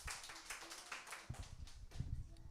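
Church congregation clapping during a Sunday worship service, scattered, fairly quiet claps with irregular rhythm and a few sharper taps, heard in a reverberant room without talk.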